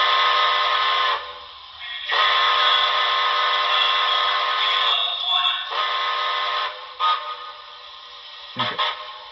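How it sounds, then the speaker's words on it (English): A model steam locomotive sound decoder (Paragon4, on a BLI NYC Commodore Vanderbilt Hudson #5344) blows its whistle in several close, loud blasts: long hoots, a brief toot and a final low short note, with hissing pauses between. "F-22 is a whistle toggle."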